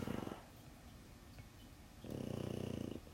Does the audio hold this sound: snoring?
yes